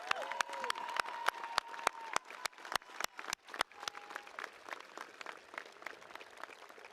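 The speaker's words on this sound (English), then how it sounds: "Graduates, let's give those people a round of applause." Applause from the audience at a university undergraduate commencement ceremony: faint, distant hand claps in a regular rhythm, with a few sustained tones drifting over them.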